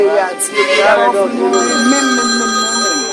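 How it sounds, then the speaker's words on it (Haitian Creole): A telephone rings with a steady electronic tone that starts partway through and carries on while someone talks over it close by. "Oh, monsieur téléphone m'a sonné."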